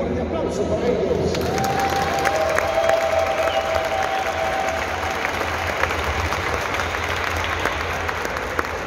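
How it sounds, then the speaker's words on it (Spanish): A crowd applauds and cheers for two boxers after a knockout fight at an independence-day boxing event, with continuous dense clapping and a sustained whistle-like tone rising through the noise early on. "un fuerte aplauso para ellos"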